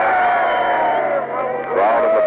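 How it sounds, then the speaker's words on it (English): A happy crowd at the end of the Berlin blockade in an archival radio recording. Distant cheering and hubbub sit under someone speaking, with a brief dip before the noise swells again. "Crowd in the background seem rather happy about the whole thing."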